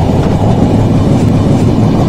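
Continuous loud rumble of the Jahanabad Express passenger train running between Khulna and Dhaka, a heavy low roar with faint rhythmic rail clatter, heard from on board with no talking.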